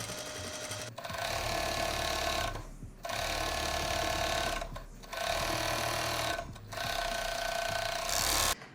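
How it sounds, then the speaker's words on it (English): A sewing machine, likely a serger, stitches the outseam and inseam of elastic-waist pants at a half-inch seam allowance, running loud and steady in four long bursts separated by short pauses. "I'm sewing the outseam and the inseam at 1/2 inch"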